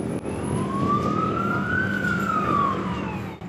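A loud, close police car siren wails in a single slow rising-and-falling sweep, steady and unbroken, with engine and road rumble beneath and no voices.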